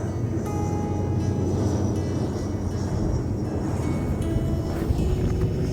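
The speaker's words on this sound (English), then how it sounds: "Another prop job." A propeller plane drones steadily overhead in Parkland County, Alberta, a continuous low rumble with a faint whine above it, heard outdoors against some wind noise.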